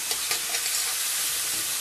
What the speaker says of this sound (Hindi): और अब मैं इसे अच्छे से चलाऊंगी। हमें बढ़िया से चलाना है हमारी चॉप वेजिटेबल्स को